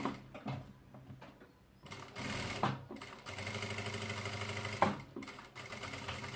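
A sewing machine runs close by in several bursts of rapid, rhythmic needle clatter as it backstitches a seam, with short pauses and handling noise between the runs.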